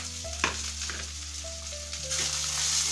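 Paneer angara masala with coriander, ginger-garlic paste and kasuri methi sizzles and fries in a pan while being stirred, a steady crackling hiss with scraping strokes and a faint tonal hum underneath.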